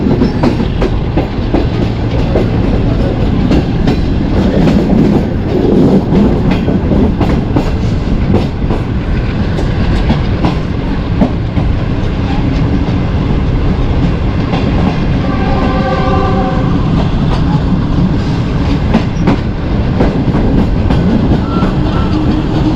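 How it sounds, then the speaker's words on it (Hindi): The Shalimar Express passenger train running on rails near Mokara in Pakistan, a loud, continuous rumble with rhythmic clickety-clack of wheels over rail joints and brief metallic squeals, heard from on board. "ट्रेन जो है वो इस टाइम मोकाड़ा के पास है"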